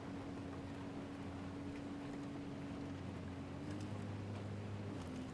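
A small motorcycle in Ghost Recon Wildlands, its engine a steady, low, continuous drone at a moderate level, mixed with wind noise and no talking.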